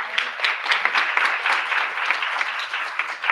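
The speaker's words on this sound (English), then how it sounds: "Applause for Bill." Steady applause fills a general meeting room, a dense, continuous patter of many hands clapping at moderate loudness for a few seconds with no talk over it.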